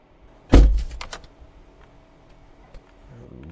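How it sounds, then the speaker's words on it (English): Free library door-closing effect: a single sharp, loud thud near the start, then a decaying rattle and faint ticks fading into quiet. "when the door closes, there's a natural change in the sound."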